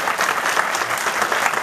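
Audience applause at a film festival screening of the short film Krug by Marko Kovač, a dense, steady, close wash of many hands clapping throughout with no talk.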